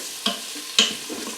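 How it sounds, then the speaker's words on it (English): Risotto rice stirred in hot fat in an Instant Pot, giving a close, steady sizzle broken by two sharp scraping stirs of the spoon. "Make sure it's nicely coated with the hot fat, because that's going to keep your grains separate in the risotto."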